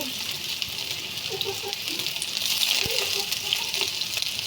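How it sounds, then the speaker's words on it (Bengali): Onion frying lightly in a pan gives a steady, soft sizzle with faint crackles and the occasional scrape of stirring, continuous and close under a person talking. "পেঁয়াজটা বেশি ভাজবো না হালকা একটু পেঁয়াজটা নরম করে নিব"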